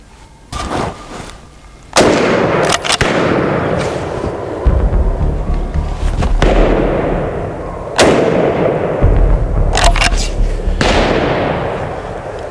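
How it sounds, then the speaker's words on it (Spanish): Several loud rifle shots ring out during a driven wild boar hunt, sharp blasts spaced a few seconds apart, each followed by a rolling echo across open country, with faint voices between them. "Nuestro vecino, Marco Caimi, disparó a un jabalí."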